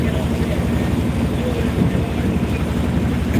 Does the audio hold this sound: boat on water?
yes